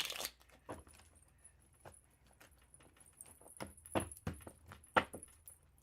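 Tarot cards shuffled by hand, giving faint, scattered papery riffles and soft slaps in irregular bursts, with a few sharper flicks near the end, close and quiet with no talking.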